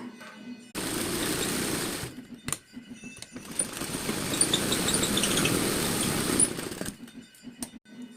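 Sewing machine stitching a border onto a neckline, a close, steady rattling whir that runs for about six seconds, with brief pauses and handling clicks before and after.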